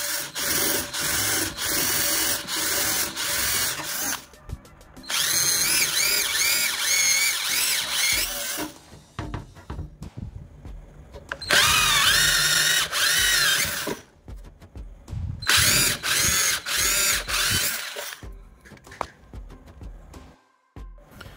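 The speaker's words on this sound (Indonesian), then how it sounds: "Untuk yang bawah kita perbesar lubangnya dengan menggunakan mata bor 4 mili." A power drill with a 4 mm bit enlarges a hole in a power box, whirring in several bursts, revving and stopping repeatedly, with short pauses between runs; close and loud, no talking.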